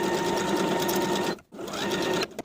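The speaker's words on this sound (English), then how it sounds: "Then edge stitch along that upper inner fold all the way around to complete the hem" A sewing machine edge-stitches along the inner fold of a shorts hem in a loud, steady whir. It stops briefly, restarts, and then cuts off at the end.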